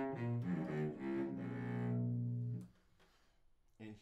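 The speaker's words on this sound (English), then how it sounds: "Here's the cello, the natural sound of the cello." Acoustic cello played without amplification, a short bowed phrase of several sustained notes with rich harmonics, close and alone, ending in a held tone before a brief pause.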